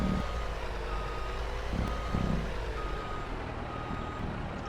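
A lorry in Farming Simulator 22 on a UK grassland map sends out steady reversing beeps over a low engine rumble, moderately loud with no talk.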